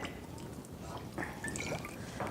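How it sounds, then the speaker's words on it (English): Sushi vinegar poured a little at a time onto freshly cooked rice, giving faint, soft liquid drips and trickles against a low background hum. "And then just pour the sushi vinegar a little bit"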